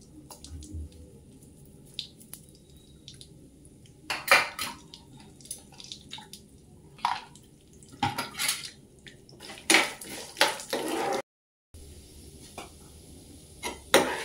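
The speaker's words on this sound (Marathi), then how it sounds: "मी चणे पण जरा फ्राय करून घेते" Chickpeas roasting in a pan for nutritious jaggery and dry-fruit laddoos made with wheat flour, heard as clattering spoon-on-metal scrapes and stirring clinks in irregular bursts, close up, with a brief dropout near the end.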